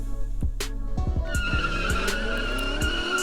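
Hot Wheels toy cars, a Bugatti and a Mercedes, race down a long drag track with sharp clicks and a rolling plastic whir, then a smooth continuous rush, with no talking.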